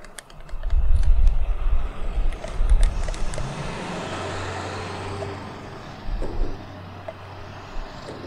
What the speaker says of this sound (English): Looks like my neighbor's driving by.